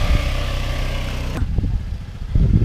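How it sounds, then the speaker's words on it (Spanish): Motorcycle engine idling and revving at low speed under a first-time rider in Bali, Indonesia, with a steady close rumble that cuts off sharply halfway and returns as scattered putters and clatter. "Dani, por primera vez manejando moto."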